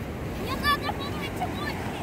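Ocean waves wash onto a shallow white sand beach as a constant, breezy roar. People talk over it throughout.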